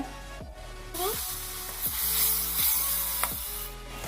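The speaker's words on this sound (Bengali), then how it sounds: "ঘি দিয়ে নিয়ে ভালোভাবে ফের আবারও নাড়াচাড়া করে নিতে হবে। এই সুজিগুলো ভালোভাবে ভেজে নিতে হবে।" Semolina fries in hot ghee in a pan, a steady bright sizzle throughout with repeated scraping strokes of a spoon stirring it.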